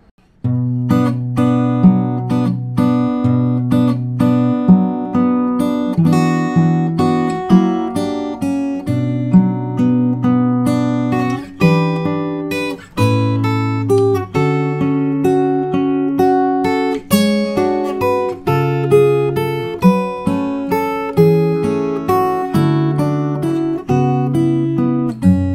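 Fingerstyle guitar plays the A1 section of the Howl's Moving Castle theme, with a waltzing bass under a plucked melody, clear and close, played solo without talk for about twenty-five seconds.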